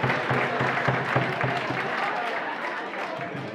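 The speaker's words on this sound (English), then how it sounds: "a big round of applause for both ladies that took part in a cracking main event" Crowd applause after a women's kickboxing main event title match, dense clapping close and loud, fading slightly over a few seconds.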